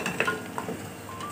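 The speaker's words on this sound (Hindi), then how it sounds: "ये 3 से 4 हरी मिर्चें भी इसमें डाल दी हैं और इनको भी हम साथ ही भून रहे हैं" Green chilies sizzling along with beef trotters being fried for paye, a short burst of crackling with a few quick metallic scrapes and clinks of a stirring spoon, close and clear.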